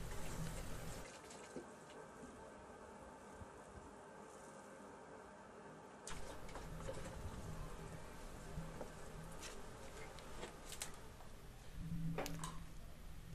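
Wine runs through a siphon from one pressurized container into another, a steady faint trickle and gurgle of liquid close by, with a few clicks and a louder splash near the end.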